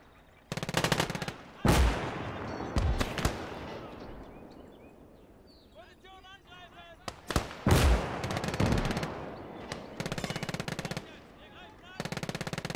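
Machine gun fire in the World War II game Gates of Hell, loud staccato bursts of rapid shots starting and stopping across the stretch, with quieter gaps between volleys and faint chirping in one lull.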